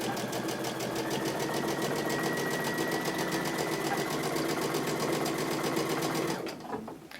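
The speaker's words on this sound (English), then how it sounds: "put your needle down, and without pushing or pulling, sew 1/4 inch along this line." Sewing machine stitching quilt fabric, a fast steady mechanical whirr with rhythmic needle clatter running loud and close for about six seconds before stopping abruptly.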